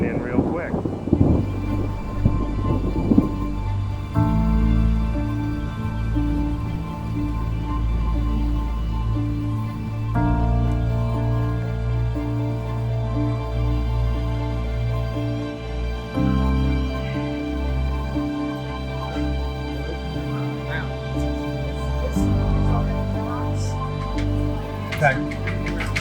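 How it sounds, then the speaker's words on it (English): A thunderstorm with steady rain and rolling thunder builds outside a saloon, loud and continuous, with people talking throughout. "This storm is rolling in real quick."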